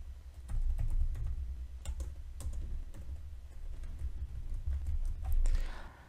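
Someone typing code on a computer keyboard, irregular clusters of close key clicks over a low background hum, with no voice.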